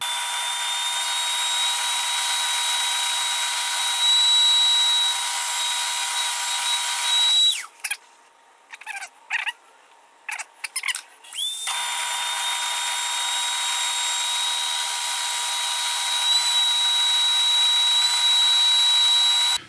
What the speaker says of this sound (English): I think I'm going to have to turn the end of this spring down on the lathe.